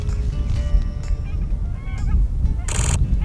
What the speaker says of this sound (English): Here come this flock of Nēnēs